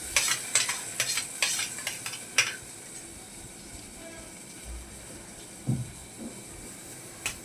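Garlic paste goes into a hot frying pan with oil, giving a soft sizzle and hiss along with a burst of quick scraping stirs and utensil clinks near the start, then sparse taps.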